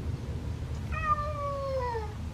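A young feral kitten gives a single drawn-out meow, clear and fairly close, rising then sliding down over a low background hum, with no talking.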